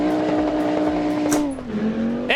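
A rally-style car launches from the start with the clutch dropped in first gear. The engine holds a loud, high, steady drone, then dips and climbs again as it shifts, with a brief tyre chirp near the end.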